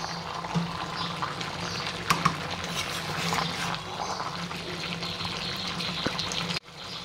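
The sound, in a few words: water poured into jackfruit and shrimp curry pan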